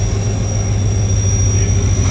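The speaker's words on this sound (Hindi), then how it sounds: "पीछे से आ रही है 48 डाउन रहमान बाबा एक्सप्रेस" The Rehman Baba Express drawing into Multan station at night: a steady, loud diesel rumble with a high, constant whine layered over it, heard close and unbroken.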